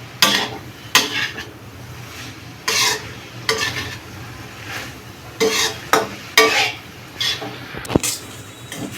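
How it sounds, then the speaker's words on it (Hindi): On a high gas flame, a spatula repeatedly scrapes and clanks against a pan while combi noodles with tomato ketchup sizzle, in loud, irregular bursts of stirring and mixing under a constant frying hiss. "अभी गैस का फ्लेम हाई करके इसको चलाएंगे, अच्छे से मिक्स करेंगे।"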